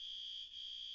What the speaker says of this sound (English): That was the fire alarm going off.